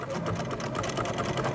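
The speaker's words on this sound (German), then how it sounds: "Und gut, dass meine Nähmaschine ein Programm dafür hat." Home sewing machine running a built-in buttonhole program to stitch a buttonhole in velvet fabric with a buttonhole foot, giving a steady, continuous close-up motor whir with a fast needle rhythm throughout.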